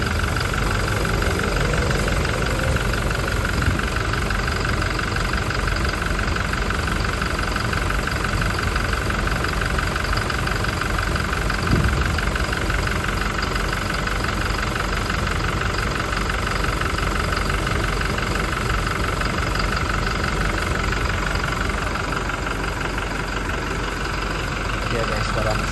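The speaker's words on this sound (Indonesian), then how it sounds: "suara mesin ya guys ya" A Toyota Innova Reborn 2.4 diesel engine idles throughout, a continuous low rumble with a faint knocking texture, close by, with no clear speech over it.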